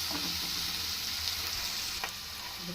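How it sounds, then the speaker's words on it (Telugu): Sliced onions with a handful of curry leaves sizzle steadily in hot oil in a pan for a flat bean and tomato curry, a soft, even crackle with faint stirring. "ఆనియన్స్ వేగుతున్నాయి కదండి, ఇప్పుడు కొద్దిగా కరివేపాకు కూడా వేసుకున్నాం."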